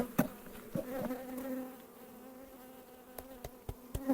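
Honeybees buzzing around a beehive during a swarm capture: a steady close hum with individual bees droning past, punctuated by several sharp clicks and knocks from handling the hive.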